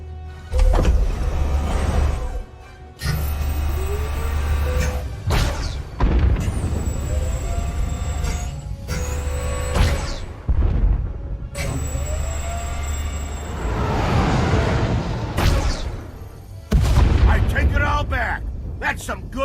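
Starship weapons in SWTOR fire in repeated loud bursts and booming blasts, each several seconds long and cut by short gaps, with ringing electronic tones and rumbling impacts throughout.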